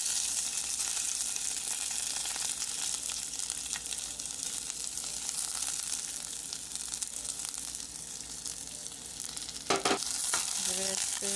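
Bodi snap beans frying in slightly hot oil, a continuous close crackling sizzle with stirring scrapes, growing busier with clinks of a utensil near the end; no talking.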